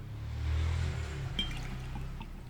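Water poured from a cup into a bottle during a classroom volume measurement, a low gurgling fill under steady room noise, with a small clink partway through.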